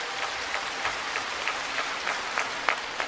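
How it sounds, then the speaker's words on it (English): Spectators at a WTT China Smash men's singles table tennis match applaud steadily, with rhythmic, evenly spaced claps standing out against the continuous patter of the crowd. "an authoritative applause from Wang Hao"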